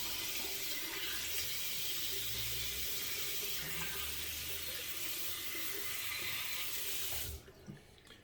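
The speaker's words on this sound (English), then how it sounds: "I'm going to rinse up now" Running tap water pouring steadily into a sink to rinse after a safety razor shave, a continuous close hiss that cuts off near the end.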